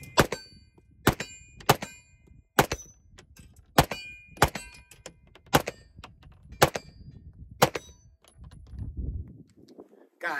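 A Springfield Armory SA-35 9mm pistol fires about ten sharp, loud shots at an outdoor range, spaced unevenly with short pauses between them and a low rumble in the gaps.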